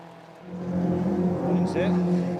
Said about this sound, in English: So here's Priestwood putting a lap on the 105 DTO car.